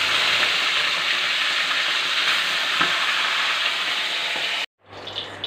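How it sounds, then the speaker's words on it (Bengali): Pomfret fish sizzling as they fry a second time in hot oil, a loud, dense, continuous hiss that stops abruptly near the end, leaving a quieter tail. "এবার দ্বিতীয়বারের জন্য আমি ভেজে নেব মাছগুলো সব"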